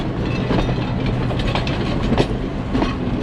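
A train crosses the Nine Arch Bridge in Sri Lanka with a loud, continuous rumble and rhythmic clickety-clack of the wheels, heard close by without any talking.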